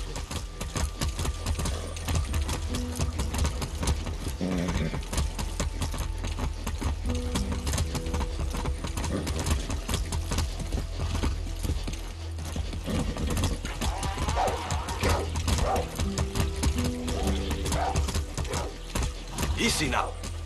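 Rhythmic clip-clop of horse hooves galloping in the video game Far Cry 6, over a busy game soundscape, with people talking intermittently on top.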